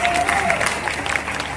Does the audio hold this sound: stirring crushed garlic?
no